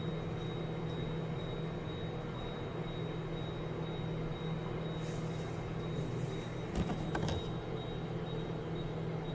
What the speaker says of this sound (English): I hear that computer motor, whatever runs that.